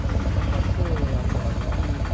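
An auto rickshaw engine runs steadily and loudly throughout, a continuous low rumble with a knocking, idling character on a ride to a waterfall, with no speech over it.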